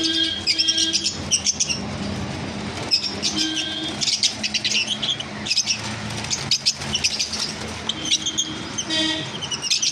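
Caged cockatiels, java sparrows and lovebirds kept for sale chirp and tweet busily and close by, with overlapping calls and bright whistles running without a break.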